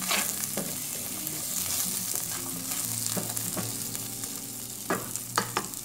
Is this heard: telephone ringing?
no